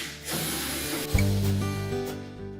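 A power driver whirs and buzzes briefly while backing out a Torx retaining screw from the top panel of a Whirlpool washer, a close mechanical whine with a sharp click near the middle and no talking.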